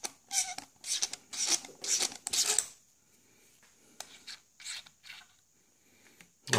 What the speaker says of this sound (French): je vais, avec un tournevis, venir retirer le couvercle